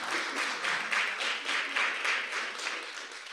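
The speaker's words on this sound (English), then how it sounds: "Anytime you want to clap, I'm happy to pause." An audience at a distinguished lecture in African studies applauds, a steady, moderately distant wave of clapping that swells and eases over a few seconds.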